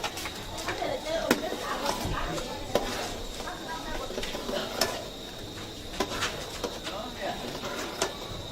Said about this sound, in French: Je suis en train de tourner la sauce.